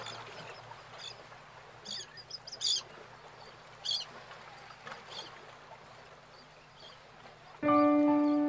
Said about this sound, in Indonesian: suara air dan burung-burung ya